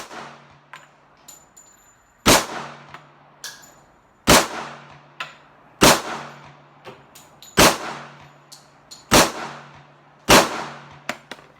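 An Auto Ordnance 1911 A1 pistol fires at a shooting range, six loud sharp shots spaced about one and a half seconds apart, each ringing with a short echo, along with fainter distant reports from other shooters.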